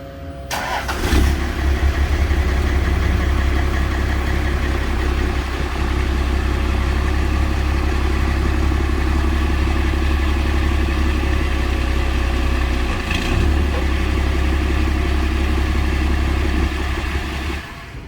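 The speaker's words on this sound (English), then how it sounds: "here's a little sample of what it sounds like stock right now" A stock car's engine and exhaust idle steadily with a deep, constant low rumble, loud and close, starting up abruptly at the beginning and holding for the full length, before a 4-inch straight pipe is fitted.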